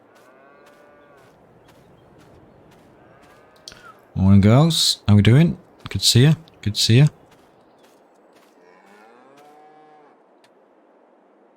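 Cows in the video game Farming Simulator 22 give several drawn-out moos, a few before and a few after a man's brief greeting to them. The lowing is moderately close and sounds over a quiet farm background.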